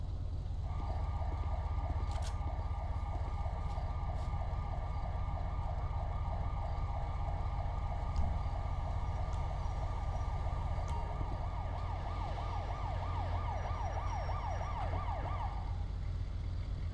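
Wailing emergency siren from a police vehicle in the video game GTA V with the LSPDFR mod, set in Canada, cycling steadily and loudly for most of the stretch over a constant low engine rumble.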